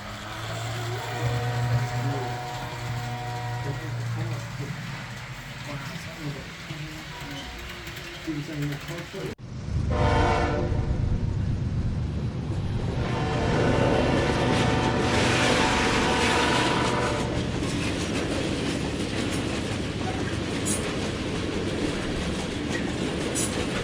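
A model train rumbles past on its track with steady rolling wheel noise, loud and close, while people talk over it; the roar swells partway through.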